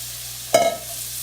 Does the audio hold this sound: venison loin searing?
yes